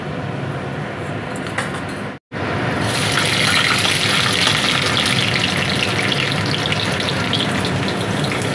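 Garlic and green chillies sizzle in hot oil in a home kitchen, a loud, steady hiss that breaks off for an instant and then comes back even stronger.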